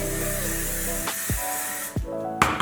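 Hairspray hisses onto freshly curled hair in a steady spray lasting about a second, followed by two shorter bursts, close and fairly loud with no talking.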